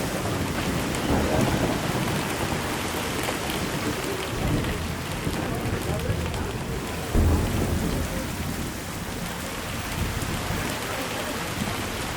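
Heavy rain pours steadily over the roads of San Juan village at Lake Atitlan, Guatemala, a dense constant hiss with a low rumble of thunder rolling in partway through.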